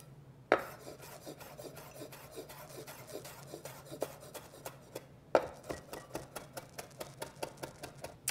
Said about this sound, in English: I'm gonna finally chop the mint and the dill